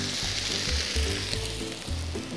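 Vegetables sizzle loudly in a hot pan as a little water is added, giving a steady hiss and crackle with a few stirring knocks underneath.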